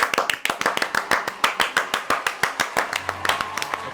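A small group claps hands together on cue, producing a quick steady run of sharp close claps for several seconds with no talking.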